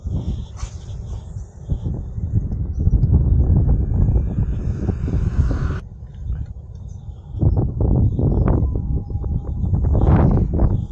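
Strong wind buffets the microphone in loud, rumbling gusts while fishing for tarpon, easing briefly before surging again.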